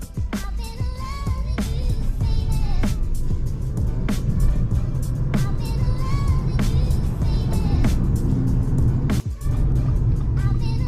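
Fiat 500e electric car accelerating hard, a steady broadband road and motor drone with repeated sharp clicks and bumps over it, loud and close throughout.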